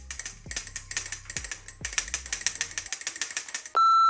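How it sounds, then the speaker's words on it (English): WE Culex titanium button-lock folding knife snapping open and shut, a quick series of crisp metallic ratcheting clicks in bursts, close and loud, ending in a steady tone. "you will absolutely love the way that this knife sounds opening and closing"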